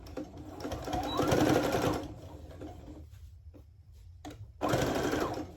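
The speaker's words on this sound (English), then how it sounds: "Now you take the top and you start stitching it." A sewing machine stitches plaid fabric for men's pants, its steady mechanical whir running in two bursts separated by a quiet pause, close and fairly loud.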